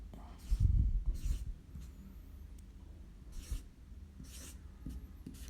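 Marker strokes writing the figure 1 lakh on a board during a maths lesson, a few short scratchy bursts spaced apart, with a teacher's low voice and handling noise at the start.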